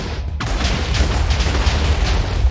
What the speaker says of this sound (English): We didn't have much TNT left to place, so we made a little mini explosion.